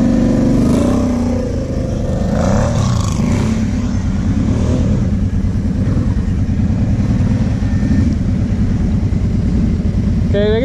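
Two Kawasaki ATVs, a KFX 700 V-Force and a KVF 750 Brute Force, rev side by side at night with a loud, continuous close-up engine roar and rising throttle swells; people talk over the noise.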